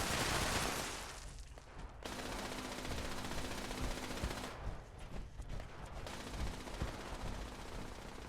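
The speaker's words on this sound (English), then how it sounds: "you hear that turret in the back" Turret gunfire in Fallout 76, a steady dense rattle of automatic shots from a gun emplacement somewhat in the background, continuing unbroken with brief dips in intensity.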